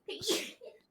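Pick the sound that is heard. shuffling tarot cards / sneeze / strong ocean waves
sneeze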